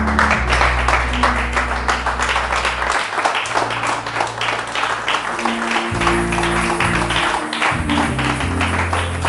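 Church congregation applauding and cheering in praise during a French-language sermon, steady loud clapping throughout with a sustained low organ or keyboard chord underneath.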